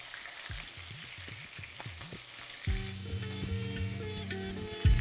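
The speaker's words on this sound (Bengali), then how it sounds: "আমি সব কটা একেবারে ভাজছি না, ব্যাচ ওয়াইজই ভেজে নিচ্ছি।" Prawns fry in batches over a high flame, a constant hiss of hot oil with bursts of crackle; a brief tonal hum and clatter appear partway through, close and fairly loud.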